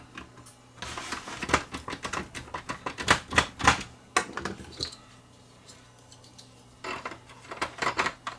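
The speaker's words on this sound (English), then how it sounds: "Reinstall the bracket for the cassette housing." The cassette housing bracket of a Sony SLV-N55 VHS VCR being refitted: close plastic-and-metal clicks and clatter in uneven bursts, with a quiet pause before a final cluster of taps.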